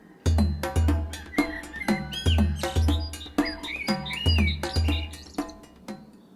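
Small birds chirp and call near a bush outdoors, a busy run of short whistled tweets and trills layered over a steady low rhythmic thumping background, fairly close and moderately loud.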